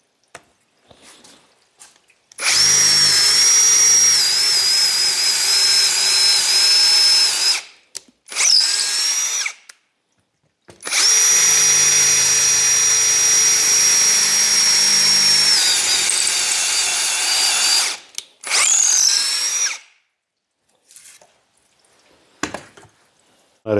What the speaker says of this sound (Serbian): Osmica za bušenje drveta.